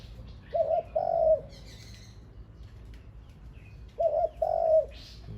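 A decoy dove coos in two short bursts, pausing a few seconds before repeating the same soft, throaty call, fairly close against a quiet background.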